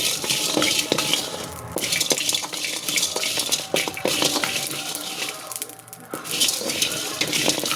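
Cumin seeds and black pepper sizzle and crackle in a hot pan while a spoon scrapes and stirs steadily, with clinks of metal against the pan, close and fairly loud.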